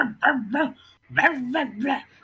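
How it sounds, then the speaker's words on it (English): A pet dog gives two quick bursts of yelping, whiny barks, each a short run of rising and falling cries, close and fairly loud, with a brief pause between them. "Microphone so he doesn't have to listen to my dog anymore."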